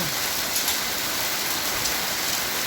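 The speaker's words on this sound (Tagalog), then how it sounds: "Umuulan ng grandine in Italian. Hail sa English." A steady, dense patter of hail striking surfaces, constant and close, with no voices heard.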